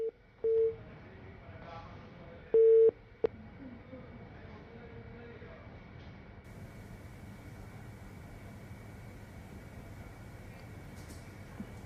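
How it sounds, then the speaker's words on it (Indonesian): A dropped telephone line gives a few short, loud beeps of busy tone early on, then faint line hiss during a live broadcast interview call. "mohon maaf, terputus sambungan telepon dengan Bapak Randy Sasmita"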